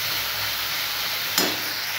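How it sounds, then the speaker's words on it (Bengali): Onion, garlic, ginger paste and spices fry in a pan with a steady, close hiss of sizzling oil, briefly swelling with a sharper spatter as the mixture is stirred. "মশলাটা দিয়ে দেবো, দিয়ে ভালো করে কষিয়ে নেব, যাতে আদা পেস্টের গন্ধটা না থাকে"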